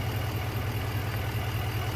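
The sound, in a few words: 2024 GMC Sierra 2500 HD 6.6 liter turbodiesel V8 idling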